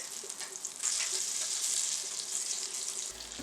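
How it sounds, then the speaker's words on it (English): Butter sizzling in a pan on medium heat, a bright continuous hiss that swells slightly after the first second and holds steady, close and fairly loud, with faint stirring scrapes and no talking. "I'm going in with my butter, and I'm adding all the ingredient lists in the description box. This is on medium heat"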